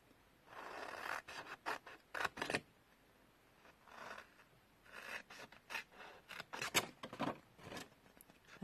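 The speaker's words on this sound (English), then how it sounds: "So we're just going to cut up those score lines" Scissors cut card along score lines while a gift box is made, giving close, quiet bursts of rasping snips in uneven runs with short pauses between them.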